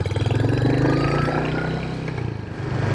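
A Royal Enfield Hunter 350 motorcycle's single-cylinder engine runs steadily at a low, throbbing idle, loud and close, with a faint rev swell near the end and no talking.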